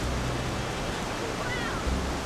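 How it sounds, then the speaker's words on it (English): A waterfall in Costa Rica, heard from its base as a steady, loud rushing roar of falling water that holds unbroken throughout. "I couldn't believe I was splashing around at the base of this magnificent waterfall in Costa Rica."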